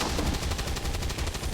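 Loud automatic weapon fire from a flanking shot in the turn-based tactics game XCOM 2, a quick rhythmic rattle of close shots running through the whole moment without voices.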